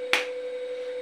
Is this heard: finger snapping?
yes